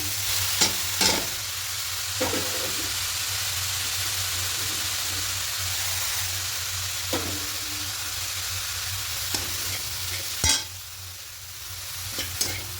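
Grated coconut is stirred into a ghee mixture in a pan, a steady frying sizzle with a low constant hum beneath and periodic sharp spoon knocks and scrapes against the pan, no voices.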